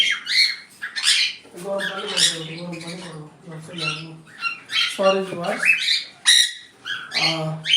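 Sun conures and cockatiels at a bird farm in Bangladesh give loud, harsh squawks in repeated bursts, close by and dominating the scene, with some softer chirps between calls and speech faintly mixed in.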